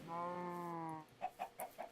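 Chickens in a Minecraft modpack game make a sustained harmonic call, then four short clucks in an even, quick rhythm, clear and close with no talking.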